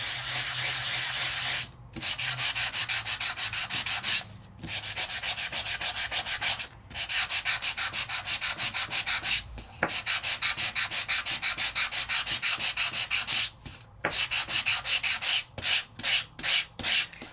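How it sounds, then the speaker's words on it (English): Sanding paper die-cut craft elements by hand, a steady rapid scratchy rubbing in long bursts with brief pauses between strokes, close and loud with no talking. "And sand all my elements."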